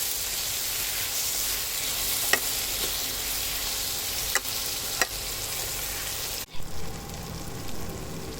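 Tomatoes and onions sizzle steadily in a hot pan for a puri masala, with a few sharp spoon scrapes and clacks over the frying hiss before the sound drops suddenly near the end; no one speaks.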